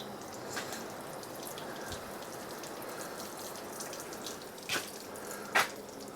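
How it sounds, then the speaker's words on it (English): Heavy rain pours steadily over a Fiat 500 Sport, water streaming down past the spoiler in a constant wash with a couple of sharper splashes near the end. "That is very heavy rain, isn't it? It's almost like a river"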